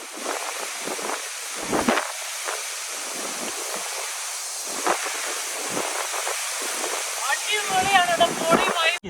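Jogini waterfall near Manali roars as a constant broadband rush of falling water, with wind buffeting the microphone and people talking intermittently over it.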